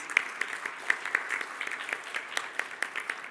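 A light round of applause at the opening ceremony of a Chief Medical Officers meeting, scattered hand claps from a modest audience, fairly faint with individual claps standing out.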